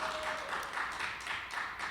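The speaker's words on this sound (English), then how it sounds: "another round of applause" Audience applause at a hemp industry panel in New York City, a steady broadband wash of many hands clapping at moderate distance, sustained evenly throughout without pauses or voices.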